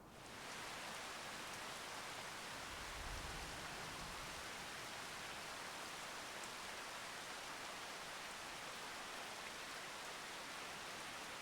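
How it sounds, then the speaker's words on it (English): Video game rain from Farming Simulator 25: a steady, dense hiss of rain falling, even and continuous throughout, with no voices and a brief low rumble near the start. "But I still hear the rain."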